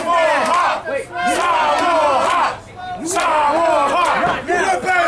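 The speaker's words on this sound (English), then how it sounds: "This crowd very enthusiastically chanting the homeland of Samoan Sap to these people." A wrestling crowd at a live TWF show chants loudly and rhythmically in unison, the chanted phrases repeating in waves with short breaks between them, close and filling the hall.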